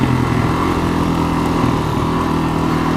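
A Suzuki DRZ400SM motorcycle rolls along in first gear at about 25 mph, its single-cylinder engine putting steadily with a constant close drone and no talk over it.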